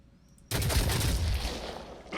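Gunfire from the video game Phoenix Point erupts suddenly after a quiet start, a loud dense volley of rapid shots that rumbles on and then trails off, with no voices.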